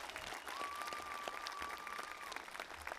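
Audience applause at an elementary school commencement, a quiet, distant patter of steady clapping from a crowd, with a faint tonal whine running through the middle and no voices on top.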